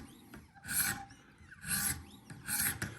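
A Spyderco Yojumbo wharncliffe knife stroked along Wicked Edge sharpening stones, giving three even rasping passes about a second apart, close and clear, with no talking.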